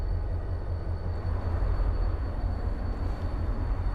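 A moving train heard from inside a carriage gives a steady, heavy low rumble with a faint constant whine above, continuous and close, with no voices.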